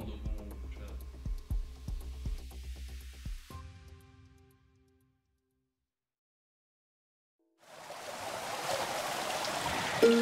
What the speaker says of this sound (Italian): I zampilli d'acqua scrosciano le vostre spalle in maniera molto rilassante e piacevole